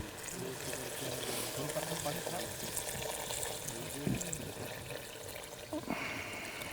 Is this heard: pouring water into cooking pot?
yes